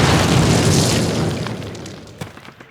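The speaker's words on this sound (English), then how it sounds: "Place your explosives on the cinder block wall" Explosives detonate against a cinder block wall in Call of Duty, a loud broad blast that rumbles and decays over a couple of seconds, followed by a faint debris thump.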